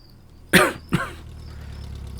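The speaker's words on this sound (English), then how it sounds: "The mailman coughs and splutters." Two harsh coughs in quick succession, the first louder and more spluttering, close by over a low background rumble.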